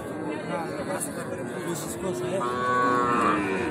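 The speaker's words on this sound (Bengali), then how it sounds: "ছোট ছোট ষাঁড় গরু, একেবারে ছোটোর দিকে যেতে চাই" Young bull calves moo at the Ambari cattle market, a drawn-out bellow rising near the end over a crowded background of talk and market bustle.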